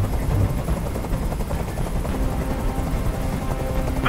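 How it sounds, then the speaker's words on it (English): A helicopter hovers nearby in the video game Detroit: Become Human, its rotor throbbing steadily and loudly throughout with no voices over it. "Tell that helicopter to get out of here!"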